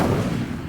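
Incendio fire spell cast in Hogwarts Legacy, a short dull whooshing burst that starts loud and tails off quickly within a fraction of a second.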